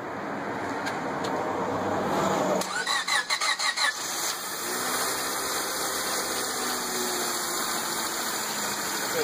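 A car engine cranks in a quick run of rhythmic pulses, catches and settles into a steady, close idle while its MAP sensor is under test; no one speaks.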